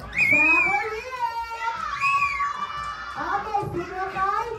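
Grade 1 children at a school Christmas party shout and shriek together in loud, high bursts, with an adult voice leading them and the noise rising and falling in waves; any clapping is buried under the shouting.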